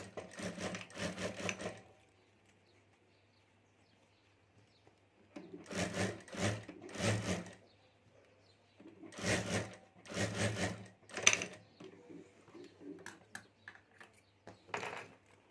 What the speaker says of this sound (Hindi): और अब यहाँ भी ऊपर हमें एक सिलाई कर देनी है।